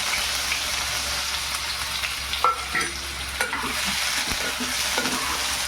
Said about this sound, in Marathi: हे बघा तेल आपला गरम झालं आहे कांदा आणि मिरची